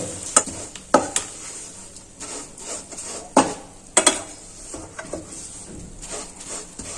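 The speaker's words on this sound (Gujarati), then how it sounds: "દેશી ગોળ લીધો છે એટલે ફટાફટ મિક્સ થઈ જશે" Modak filling of jaggery being stirred in a pan, with a spoon scraping and knocking against the metal in irregular strokes over a soft sizzle, close and moderately loud, no voices.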